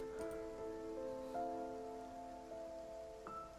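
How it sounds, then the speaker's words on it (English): Rain patters softly against a window in the Love and Deepspace video game, a faint, steady drizzle with scattered drop taps beneath sustained, gentle tonal music notes. "I glance at the raindrops pitter-pattering against the window"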